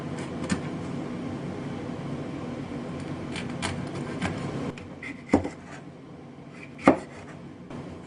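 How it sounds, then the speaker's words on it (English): A knife cuts fresh swordfish into thick pieces against a steady background hum, with two sharp chopping knocks standing out near the end. "Fresh swordfish is sliced into thick, clean pieces, then lightly seasoned with soy sauce, ginger."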